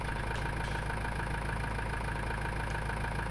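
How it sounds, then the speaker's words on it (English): A smooth-running tractor engine in a farming survival roleplay video game idles steadily with a low, even rumble that holds at constant loudness throughout. "Actually, a very, very smooth tractor."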